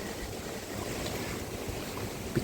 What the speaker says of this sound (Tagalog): Lakas pa ng hangin.